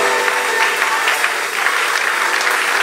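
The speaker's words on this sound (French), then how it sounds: "acclamez un peu le Seigneur" A church congregation claps for the Lord during a sermon, producing dense, steady applause that fills the room at close range without a break.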